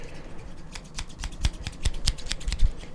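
Barbershop scissors snipping close up, a deep, soft scissory cut rather than a sharp snip, repeating in an irregular series of crisp metallic clicks with no talking.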